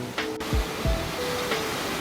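Yukdam waterfall in Towanggol valley, Seoraksan, more than 40 metres tall, gives a steady rushing wash of falling water, with a few brief low thumps and faint tonal sounds over it.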